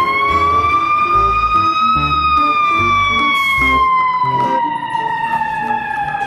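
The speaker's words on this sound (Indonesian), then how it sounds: "di sini ada mobil pemadam kebakaran" A toy fire engine plays a loud, close electronic siren with a slowly rising and falling wail, over a repeating low rhythmic pulse from the toy's sound loop.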